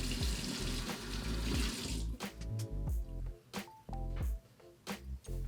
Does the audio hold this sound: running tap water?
yes